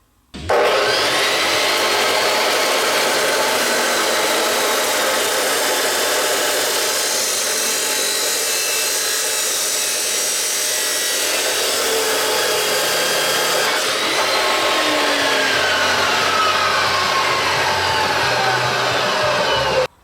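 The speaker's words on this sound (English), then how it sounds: "let's get out the metal chop saw and cut ourselves 4 pieces" A metal chop saw cuts steel stock into 24-inch upright pieces for a welded firewood rack, a loud continuous grinding whine with high screeching tones that holds steady for the full twenty seconds, close up and with no talking.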